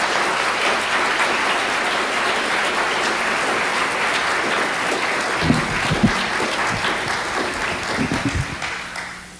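Sustained, dense applause from a lecture audience welcoming Professor Robert Bellah, loud and steady throughout before tapering off at the end.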